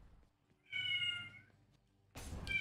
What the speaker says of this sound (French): Bah bien sûr, le chat.